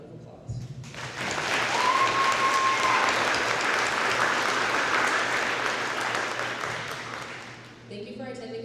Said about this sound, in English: Please join me again in thanking them with a round of applause.